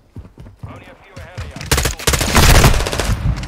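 M16 rifle fire in Modern Warfare 2, starting with scattered quieter sounds and a voice, then a loud dense burst of rapid shots over the second half.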